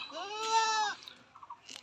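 A single female Totapari-cross kid goat on a farm bleats once, a wavering, nasal cry close by, followed by faint rustling and soft background noise.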